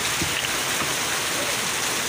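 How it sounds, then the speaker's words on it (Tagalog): Heavy rain pours steadily onto a road in Tagaytay, a loud dense hiss that fills the whole clip with no pauses and no talking. "Grabe guys, ito, lakas ang ulan."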